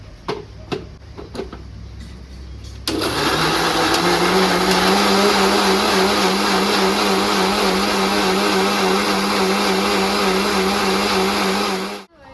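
An electric blender grinds a paste of black salt and water, starting after a few light knocks into a loud, steady whirring drone that holds for about nine seconds before cutting off abruptly.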